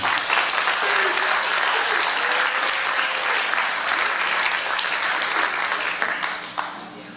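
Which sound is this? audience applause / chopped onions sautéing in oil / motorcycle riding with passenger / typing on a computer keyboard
audience applause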